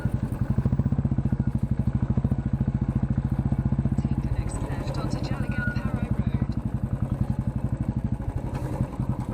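Motorcycle ride with a steady, loud low engine throb throughout, plus intermittent rattling and scraping clatter from the silencer, continuous with no talk over it.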